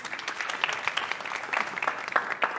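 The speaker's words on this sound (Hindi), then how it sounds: "मयंक के लिए तालियां बजा दो यार पहले." Audience clapping for Mayank, a young participant at an NDTV Yuva youth event, a steady patter of many hands at moderate level with no voices over it.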